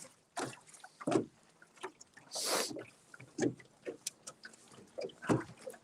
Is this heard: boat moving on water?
yes